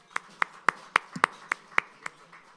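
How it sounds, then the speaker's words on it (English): A few slow, separate hand claps at an anniversary gala and awards night, spaced evenly across a couple of seconds, fairly close and sparse rather than a full crowd. "please give them a round of applause"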